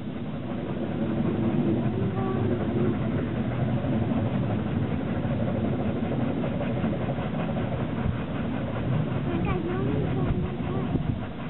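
Two steam locomotives climb one behind the other on the Brienzer Rothorn Bahn rack railway, a steady mechanical rumble and chugging that runs throughout, with voices faintly underneath.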